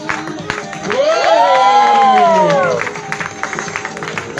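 A crowd at a bike trial exhibition at a motorcycle dealership cheers a rider with loud rising whoops and shouts, plus scattered claps, swelling in the middle and then easing off.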